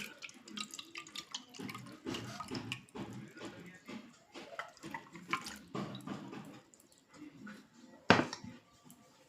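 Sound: water being strained for orchid care

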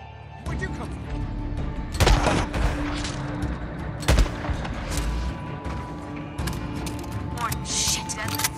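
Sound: sniper gunfire from the roof in the video game Days Gone

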